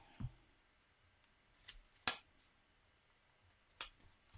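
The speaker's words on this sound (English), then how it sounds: "So I'm just going to trim off my excess hat." Scissors trimming excess paper off a witch's hat for Halloween treat bags, a few faint, sparse close snips and clicks spread apart in a quiet room.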